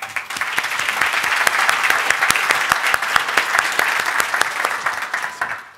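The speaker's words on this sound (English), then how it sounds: "so can we please give them another round of applause?" Audience applause at a technology conference talk on Selenium testing: dense, steady clapping from a full room that holds for about six seconds before tapering off at the end.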